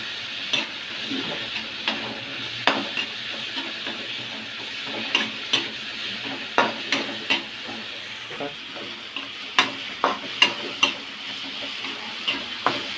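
Garlic cloves, ginger and chopped coriander masala sizzle steadily in a pan, with repeated sharp scrapes and clicks of a spoon stirring throughout, close and fairly loud.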